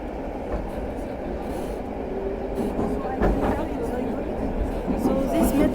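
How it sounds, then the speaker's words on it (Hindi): A Tashkent metro train on the 1977 Soviet-era underground runs with a steady, loud rumble and rattle throughout, while voices from a crowded carriage murmur underneath. "तो गाइस अपनी ट्रेन अभी आ चुकी है, हम लोग ट्रेन के अंदर जा रहे हैं।"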